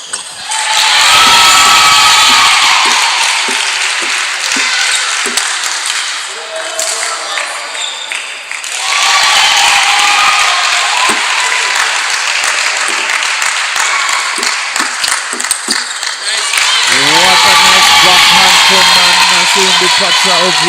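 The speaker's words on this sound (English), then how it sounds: "it really excited the viewers that they had to applaud her" Crowd at a table tennis championship breaking into loud cheering and applause in repeated bursts, with an announcer's voice talking over and between them.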